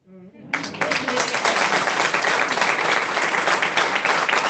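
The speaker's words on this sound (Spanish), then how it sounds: "No sé si la Virgen se merece un aplauso, hermano." After a brief spoken moment, a church congregation bursts into sustained, close, dense applause that keeps an even intensity to the end.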